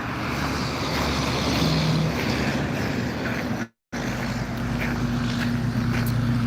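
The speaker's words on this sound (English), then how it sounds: "sorry if there is a bit of traffic noise as well, guys. It's a pretty busy road alongside me." Steady traffic rumble from a busy road nearby, a continuous broadband roar of passing cars and trucks with a brief dropout midway, no talk.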